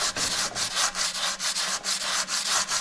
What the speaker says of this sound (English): he has the sandpaper bent over, so he's getting the back side and the front side at the same time